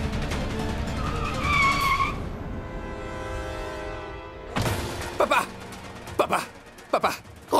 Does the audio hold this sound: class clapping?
no